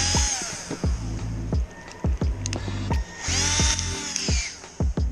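A power drill cleaning the bolt journals of an engine block during a 6.0 LQ4 LS swap build, whirring in repeated short bursts with brief pauses and spin-downs, close and loud.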